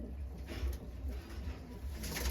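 Madras pigeons coo in low, soft murmurs that repeat through a steady background hum, fairly close and moderately quiet, with no voices.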